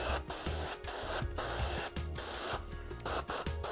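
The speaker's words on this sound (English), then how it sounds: "just spraying over it, just little short bursts of paint" Airbrush spraying paint over a foam R/C model in short, repeated hissing bursts, each a second or less, close and steady with brief gaps between.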